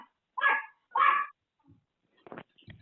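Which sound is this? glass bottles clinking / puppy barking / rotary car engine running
puppy barking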